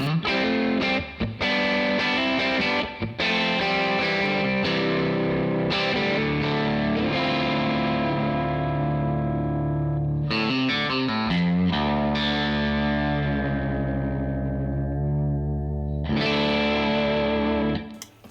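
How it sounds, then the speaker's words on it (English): Heavily effected electric guitar with a chorus shimmer plays sustained, overdriven chords, loud and continuous, with brief re-strikes and a final fade. "The middle position sounds great."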